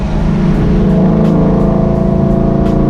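A fast car with a 1JZ engine roars under hard acceleration, its loud, dense engine drone carrying steadily throughout with slight rising pitch.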